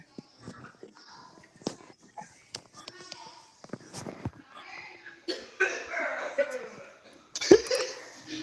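A woman coughs repeatedly in harsh bursts, interspersed with quieter sounds and some talking nearby.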